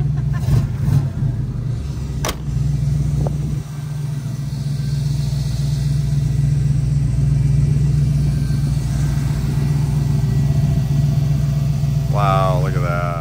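A restored 1938 Ford pickup engine runs at a steady mid-pitched idle and rumble for most of the span, with a few sharp knocks near the start. A voice joins briefly at the end.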